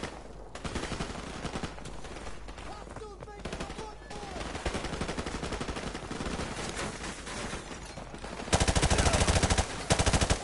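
Gunfire and rocket fire in a PS4 shooter game, dense rapid bursts of automatic fire throughout, with a louder blast near the end.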